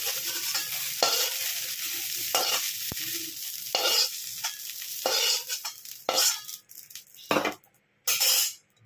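Vegetable stalks frying in a wok give off bursts of sizzle with scraping stir strokes that come and go, separated by quieter gaps and an occasional metallic tap, close by with no speech.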